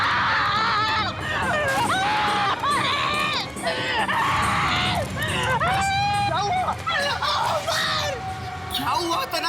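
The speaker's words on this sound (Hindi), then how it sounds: "क्यों चिल्ला रहे हो?" Several people scream and shout in a tense drama scene set in a supposedly cursed building during a reality show shoot, with loud, continuous overlapping cries and babble throughout.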